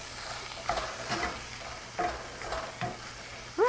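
Sausage cooks in a frying pan for breakfast, a low background sizzle broken by several stirring scrapes and light utensil knocks at uneven intervals.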